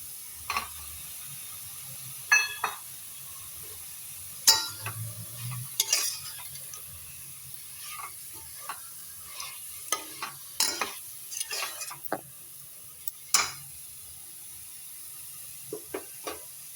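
Eggs fry in a pan for egg biryani, with a soft sizzle beneath scattered clinks and scrapes of a spoon stirring, close by and fairly quiet throughout.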